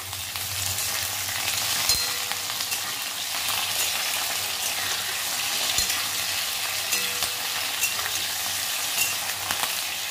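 Sliced pointed gourd fries in a pan in a home kitchen, a continuous even sizzle with occasional stirring clicks, close and steady throughout with no talk.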